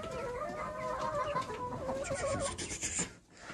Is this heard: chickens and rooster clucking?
yes